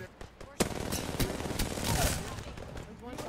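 Video game gunfire in a competitive ranked match: a few sharp shots and short bursts crack over background game noise, mixed with a player talking.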